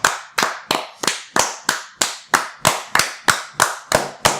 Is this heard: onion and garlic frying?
no